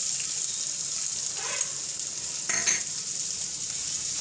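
Onion with ginger frying in a pan, a steady bright sizzle throughout with a couple of soft stirring scrapes, close and moderately loud, no talking.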